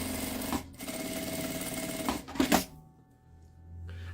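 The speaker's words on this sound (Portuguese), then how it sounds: "Vou passar uma costura na beiradinha de cá e na beiradinha de cá." A sewing machine stitches a seam along a fabric edge, close by, in two rattling bursts of rapid needle strokes separated by a short pause, ending with a quieter hum.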